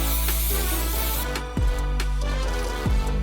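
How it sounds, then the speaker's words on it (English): One Size Until Dawn makeup setting spray gives a few short, close hissing spritzes at a face, spaced about a second apart, over soft background music. "I'm gonna go ahead and set with the One Size Until Dawn setting spray"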